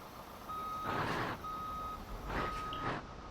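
A semi truck backing up in BeamNG.drive, its reversing alarm beeping in steady, evenly spaced tones over a low engine rumble, fairly quiet and with no speech.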